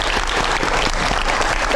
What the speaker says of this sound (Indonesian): Kita dulu tepuk tangan. dong.